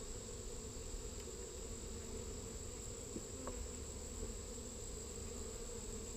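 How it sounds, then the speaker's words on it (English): Honey bees hum steadily inside an opened backyard hive during an inspection, a dense, continuous buzzing swarm close by with no talking. "There's a lot of bees in it right now."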